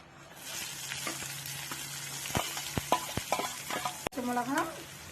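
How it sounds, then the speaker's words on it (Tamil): Onions and green chillies sauté in hot oil in a pan, a steady sizzle with scraping stirs and clinks of a spatula, followed by a louder burst of frying near the end. "பச்சை மிளகா, வெங்காயம் நல்லா வதங்கணும்"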